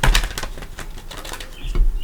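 A Light Seers Tarot deck being shuffled, giving a run of quick papery card riffles and soft flicks up close over about two seconds, with a denser burst toward the end and no voices.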